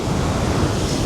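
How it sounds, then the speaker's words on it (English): Sea waves surge up the steps of a sea wall on a very windy day, a continuous loud wash of surf mixed with heavy wind buffeting close by, with no voices. "you can see the size of the waves that are coming up the steps"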